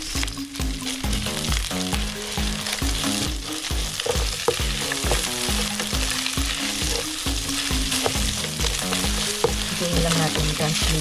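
Garlic and onion fry in olive oil in a pan with loud, steady sizzling and repeated stirring scrapes, close up and with no talking.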